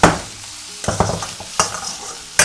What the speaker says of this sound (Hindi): सौटे करेंगे।